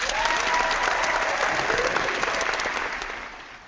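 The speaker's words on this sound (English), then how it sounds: "let me give you a round of applause" An applause sound effect played during a live-streamed talk show, a steady wash of crowd clapping and cheering that fades slightly toward the end, with no talking over it.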